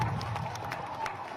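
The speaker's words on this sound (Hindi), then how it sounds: "जोरदार तालियां बजा के एक बार बहन बांसुरी स्वराज जी का स्वागत करेंगे।" Applause from a crowd at a political rally in New Delhi, a steady patter of many hands clapping at moderate distance, continuous and fairly even across the moment.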